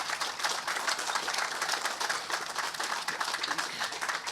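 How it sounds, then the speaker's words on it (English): Audience applause at an outdoor pump station groundbreaking ceremony in Louisiana, steady crowd clapping with a slightly uneven, pulsing texture lasting a few seconds and no talk over it. "so please let's give them a round of applause"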